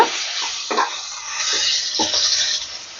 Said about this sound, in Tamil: 2-3 மிளகாயை இப்படி வறுத்துட்டு எண்ணெயில்